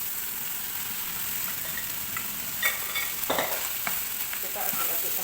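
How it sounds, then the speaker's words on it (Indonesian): Rice tossed into a pan of cooked egg for nasi goreng fries with a constant sizzle, while sharper scraping and clinking from stirring rises in the second half, with no talking. "terus kita masukin nasinya guys"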